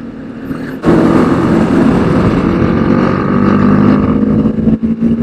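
A BMW G 310 GS motorcycle roars loud and close from the rider's position, engine and wind rushing steadily after a sudden start, with a brief dip near the end.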